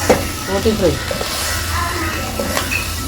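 Curry leaves hit hot oil for boti fry, giving a steady sizzling, crackling fry with a few brief spatters and stirring scrapes across the short stretch, fairly close and moderately loud.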